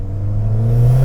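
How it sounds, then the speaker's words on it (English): A car engine's intake drones steadily from inside the cabin with a window lowered, a low rising hum as the car pulls, with the exhaust kept quieter underneath. "We can probably actually hear the intake better."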